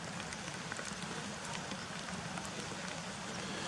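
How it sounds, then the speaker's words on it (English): Light rain falls outdoors at Cautley Spout, a steady soft hiss of drops on wet ground and gear, fairly close and continuous with no voices. "Still raining a bit"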